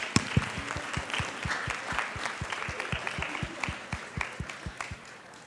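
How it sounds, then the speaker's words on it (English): An audience at a Jeopardy-style quiz game on Huntington's disease research terms gives a round of applause, with fairly close, steady clapping continuing throughout. "round of applause"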